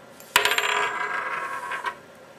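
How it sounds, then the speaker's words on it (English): A coin set spinning by one hand on a hard surface, a sharp strike followed by a steady metallic whir that fades out after about a second and a half, close and alone. "That's spinning a coin with one hand."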